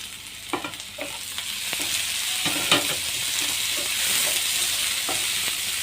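Tomatoes frying and being stirred in a pan while making macaroni, a steady close sizzle with scattered scraping stir clicks throughout, no voices.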